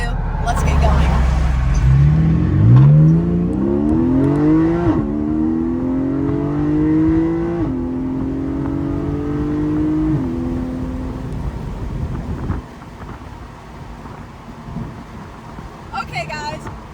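A Porsche accelerates hard on a performance drive, its engine note climbing loudly through several gears with sharp drops at each upshift, then easing into a quieter rumble near the end.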